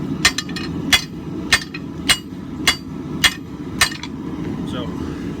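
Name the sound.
hand hammer forging a steel hammer eye drift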